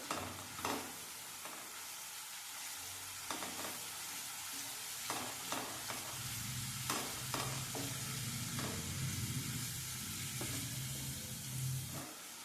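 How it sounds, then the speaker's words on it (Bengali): Spice paste for a vegetarian lentil muitha is sautéed in a pan with a little added water. It gives a steady close sizzle with repeated scraping and stirring strokes throughout and no talking. "এই মশলাটাকে ভালোভাবে কষাবো"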